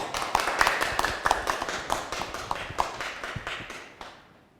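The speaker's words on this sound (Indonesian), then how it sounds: "Kita berikan aplaus semuanya." A church congregation at a pastor's installation and communion service in Makassar claps together in a steady, quick rhythm of sharp hand claps that stays close and fairly loud, then tapers off near the end.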